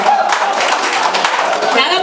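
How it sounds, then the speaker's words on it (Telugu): An audience at a welfare society service event in Warasiguda claps hard, with dense, steady applause close by that holds at an even level for the whole stretch. "గట్టిగా చప్పట్లు కొట్టండి"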